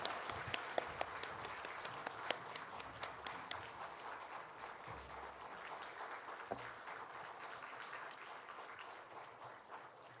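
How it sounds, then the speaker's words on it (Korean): Congregation applause during a church worship service: a sustained wash of many hands clapping at moderate distance, steady then gradually fading, with no talking over it. "우리 하나님께 영광의 박수 올려드리겠습니다."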